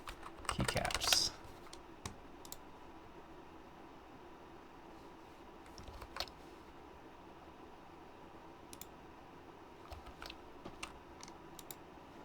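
Mechanical keyboard with SA keycaps typed on in scattered, faint clacks after a brief loud burst of handling noise at the start, with the keystrokes coming sparsely over a quiet background.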